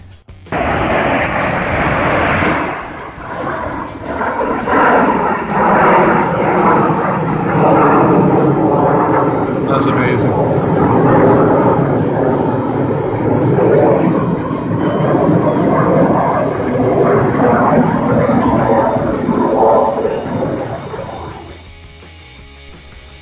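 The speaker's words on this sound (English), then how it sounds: "the snowbirds made their annual Canada Day appearance" Snowbirds aerobatic jets roaring overhead during a Canada Day flyby, a loud broad rush that swells in and fades out over about twenty seconds, with a spectator briefly exclaiming.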